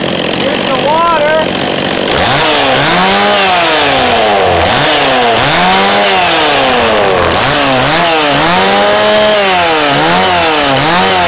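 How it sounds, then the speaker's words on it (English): A gas chainsaw, started by pull cord, runs loud and close with its engine rising and falling in repeated revving surges after a brief opening moment. "Gas chainsaw is on."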